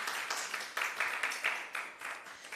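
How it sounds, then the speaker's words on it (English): Audience applause for a professor after a talk at a national health research conference, a steady wash of clapping with small surges, moderately loud and unbroken for the whole stretch. "Let's give another round of applause for Prof."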